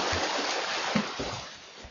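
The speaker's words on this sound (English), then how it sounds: "142 hands swimming a triathlon." Water sloshing and splashing with a few irregular heavier splashes from triathlon swimmers moving through water, over a steady rushing background.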